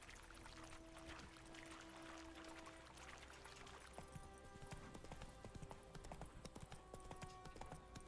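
Hooves of the horse Roach galloping in The Witcher video game, a steady clip-clop rhythm under game music, growing busier in the second half.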